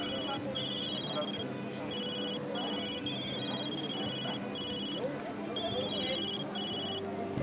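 Several mobile phones ring at once in Food Truck Simulator, bright repeating tone patterns overlapping steadily throughout over a dense bed of game background noise, with no pause between rings.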